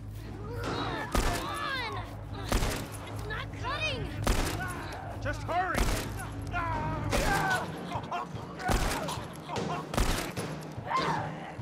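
Revolver shots in The Last of Us video game, a series of loud sharp blasts spaced about a second apart amid mechanical clatter and a speaking voice.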